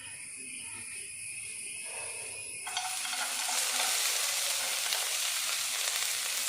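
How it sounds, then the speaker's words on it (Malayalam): Onion frying in coconut oil in a pan for a homemade baby food recipe, a steady close sizzle that swells louder partway through as the pieces are stirred, with no talking. "ആദ്യം നമ്മൾ വെളിച്ചെണ്ണയിൽ ചേർക്കാൻ പോണത് സവാളയാണ്"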